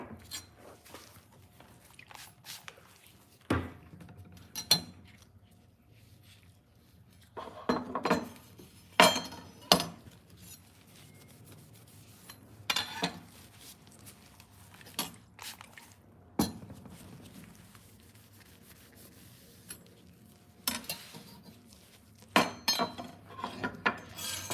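Cangshan knives being wiped down with rubbing alcohol after sharpening, giving close, irregular metallic clinks and rubbing scrapes in separate bursts, with quiet gaps between them.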